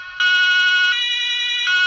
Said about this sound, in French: il faut que tu mets la sirène comme ça